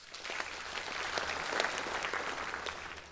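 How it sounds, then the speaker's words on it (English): A sponsors night crowd at a Hiri Moale anniversary event gives the judging panel and scrutineers a short round of applause, the clapping soft and somewhat distant, swelling slightly in the middle before easing. "Please give them a round of applause"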